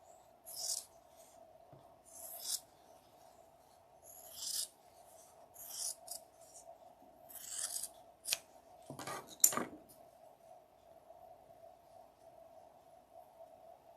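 Scissors cut fabric at a sewing table: a series of short, crisp snips comes in uneven bursts against a faint steady hum, quiet and close, with no talk.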